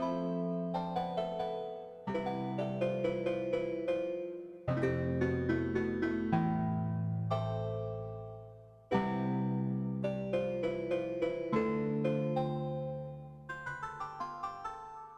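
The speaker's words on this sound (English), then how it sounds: "it's a FM synthesizer, and it sounds like this" An Elektron Digitone polyphonic FM synthesizer plays metallic, icy tones in clear struck phrases, several bright notes decaying in each run, with sustained chords underneath across four sections, moderately loud and alone.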